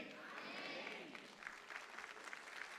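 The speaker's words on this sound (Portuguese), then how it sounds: "Se você aplaudiu é porque você entendeu." A church congregation at Mass applauds in a quiet burst of clapping that swells, then thins into scattered claps and fades.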